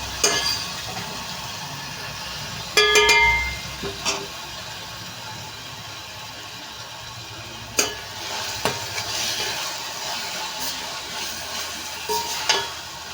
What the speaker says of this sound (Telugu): కొంచెం మసాలా అంతా వీళ్ళు పట్టే వరకు ఫ్రై చేసుకుంటూ ఉండాలండి